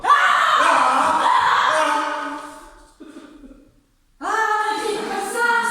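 A person screams loudly in a long, strained cry during a stage performance of Hamlet. The cry fades briefly, then a second loud scream bursts in.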